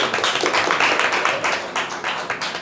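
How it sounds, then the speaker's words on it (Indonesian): Audience applause from a group clapping together, a dense, continuous patter of hand claps at steady moderate loudness with no talk over it. "tepuk tangan dulu teman-teman"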